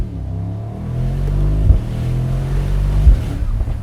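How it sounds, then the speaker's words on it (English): A 2024 Mercedes SL63 AMG engine and exhaust roars steadily and loudly up close, a continuous deep growl with two brief louder surges as the revs climb. "It sounds like an angry AMG."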